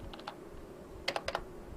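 Several quick keystrokes on a computer keyboard while a search for an IIFT application form is typed into Google, a short cluster of close, crisp clicks over faint room noise.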